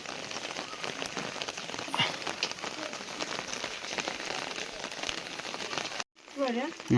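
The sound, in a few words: heavy rain in mountain village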